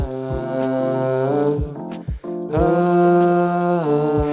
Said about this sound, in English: Singing in a lower octave actually makes things sound much bigger